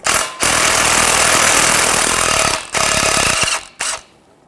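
Pneumatic impact wrench with a 14mm socket spinning off the driveshaft mounting nuts on a 2007-2017 Jeep Patriot 2.4L, loud and close in three sustained bursts separated by short pauses, the last one brief.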